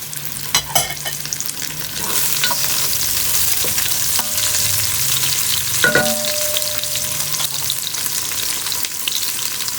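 Red chili sizzles as it sautés in a pan, a steady hiss of frying broken by a few sharp scrapes and clinks of stirring against the metal, close up with no talking.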